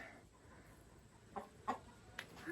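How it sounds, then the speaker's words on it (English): Broody hens, including a Sumatra and an Easter Egger, give a few soft, low clucks, three brief calls close by over quiet background. "I have some broody hens in here"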